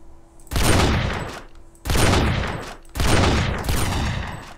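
Gunfire in the SA-MP Rust video game: three loud bursts of rapid fire, each lasting about a second and ringing out with a decaying tail, separated by short pauses, with no talking.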